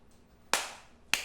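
Two sharp hand claps a little over half a second apart, each a crisp slap with a short fading tail, close and clear against a quiet background.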